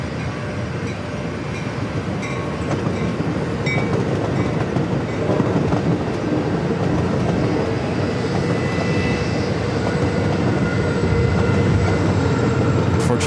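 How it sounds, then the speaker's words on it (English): Trains rumble past near San Diego airport, a steady near-continuous roll with clickety-clack and a loud, even body of noise that holds the whole time, while aircraft sounds mix into the background. "You're just going to have to hear the trains."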